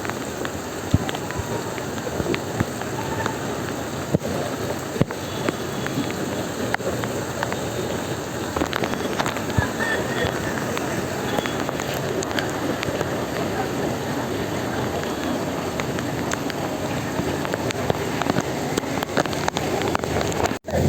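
Steady rain falls outdoors during monsoon flooding, a continuous broadband patter with scattered sharper drops. It stays fairly close and even throughout, with faint voices underneath.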